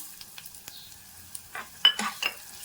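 Cumin and coriander seeds roast dry in a pan, with faint scattered ticks and crackles, then a few louder scraping stirs near the end, close and quiet with no speech.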